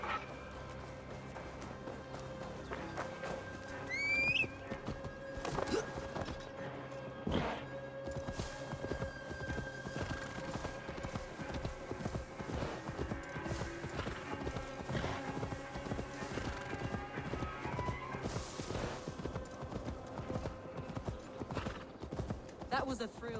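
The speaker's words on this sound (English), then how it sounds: "Now to deliver Magni his horse" Horse hooves clip-clop steadily in Assassin's Creed Valhalla, a rhythmic run of clear, close hoofbeats with an occasional whinny over a quiet game music bed.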